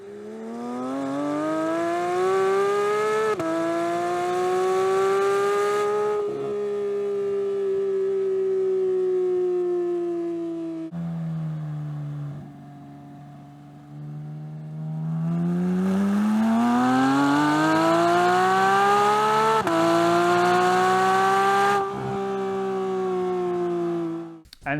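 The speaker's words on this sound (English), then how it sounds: "Would you buy a Fab Speed exhaust if you had a GT3?" A Porsche GT3 fitted with a Fab Speed exhaust drives down a road, its loud, rising and falling engine note sweeping up through revs, dropping briefly, then climbing again, with no talk over it.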